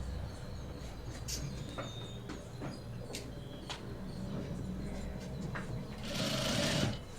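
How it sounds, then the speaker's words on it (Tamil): A sewing machine runs steadily while stitching along the folded edge of fabric for a pant hem, with a constant motor hum, soft clicks and a brief louder whir near the end. "எட்ஜ்லேயே ஃபோல்டிங்கோட எட்ஜ்லேயே தையல் போட்டோம்"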